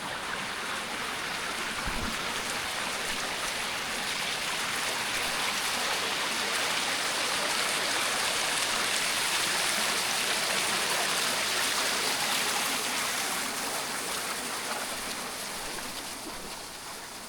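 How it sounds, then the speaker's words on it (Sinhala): The Bata Ella stream near Kalugala flows steadily past a forest camping spot, a broad continuous rushing wash of water, close and even for the whole stretch, with no voices. "ඉතින් මේ දිගටම මේ ඇල ගලාගෙන යනවා බට ඇල්ල"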